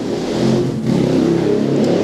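Motorcycles rumble past on a nearby road, a steady mid-pitched engine drone with a brief dip and a swell as they pass.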